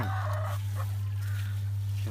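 Laying hens in a small backyard flock of ten cluck and call in short bursts over a loud, steady low hum that runs throughout.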